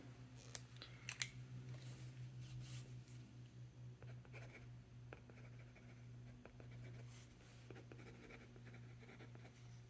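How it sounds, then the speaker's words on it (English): Pen scratching across a sheet of notebook paper during a comparison of notebooks, close and quiet, with steady strokes and a few sharper taps over a constant low hum. "So I'm just gonna write on here instead of like write in the book."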